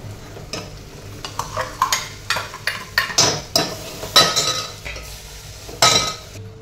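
Red chili powder from homemade Kolhapuri spice is stirred in hot oil in a pan with repeated metal scrapes and clinks against the pan. A low sizzle runs underneath, and the stirring is close and fairly loud.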